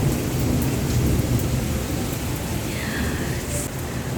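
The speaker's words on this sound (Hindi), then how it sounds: "देखा तो बारिश बूंदाबांदी हो रही थी" Steady rain and light drizzle fall outside a house in dense, continuous broadband noise, with a low rumble underneath and no voices, holding an even loudness for the whole stretch.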